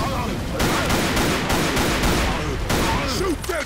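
Video game gunfire, rapid bursts of automatic shots in a dense, loud fusillade that barely pauses, with a shouted voice and a few brief sound effects near the end.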